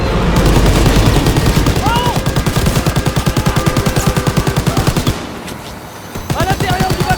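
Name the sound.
gunfire and machine gun in Call of Duty WWII video game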